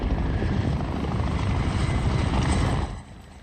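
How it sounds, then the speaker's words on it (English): Chinook and Griffin military helicopters fly over a military base during a memorial gathering, a loud, steady rotor and engine roar that drops away sharply near the end. "Chinook and Griffin helicopters, models that LaRouche flew, broke the silence over the military base"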